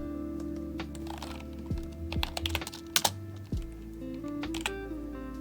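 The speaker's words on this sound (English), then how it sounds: "can you hear my keyboard though?" Rapid computer keyboard typing with repeated mashing of the Ctrl and Z keys, a dense run of close clicks and clacks that thickens into louder bursts over a steady low hum, with no talk.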